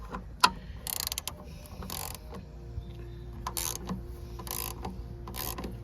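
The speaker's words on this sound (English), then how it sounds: "you just want to turn the bolt out of the center" A ratchet turns a headlight adjustment bolt on a Hemi car, giving short bursts of rapid clicking separated by pauses, with a sharp metallic tick at the start and quiet, close-up handling.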